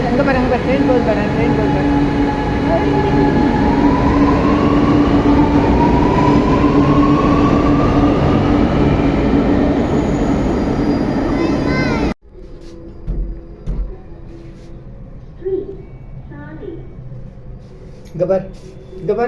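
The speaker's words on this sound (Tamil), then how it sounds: "அங்கே பாரு, ட்ரெயின் போகுது பாரு." A metro train roars past close by, loud and steady, with a rising whine, then cuts off abruptly to quiet station ambience with faint voices.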